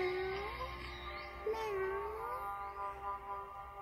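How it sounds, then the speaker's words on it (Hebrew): A cat gives one long, drawn-out meow lasting several seconds, its pitch rising and falling in smooth glides, heard alone and fairly close against a quiet background. "החתול מיילל."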